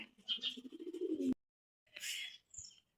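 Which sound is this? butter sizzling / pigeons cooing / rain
pigeons cooing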